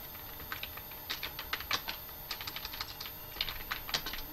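Fingers tap on a computer keyboard in Microsoft Word, producing a steady run of light, quick clicks with short pauses between bursts, close and fairly quiet over a faint background hiss.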